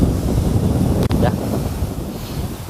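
Steady wind rushes past the microphone by the sea in a broad, continuous roar, with a low surf-like wash underneath and one brief dropout.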